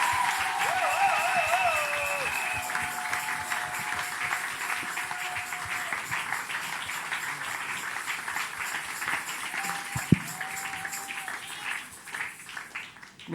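A church congregation applauds the Lord, with steady crowd clapping heard beneath voices and music throughout and one sharp knock near the middle.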